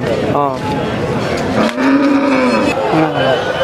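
Cattle at a busy livestock market low and moo in long drawn-out calls, loud and close, over a constant crowd murmur with people talking in the background.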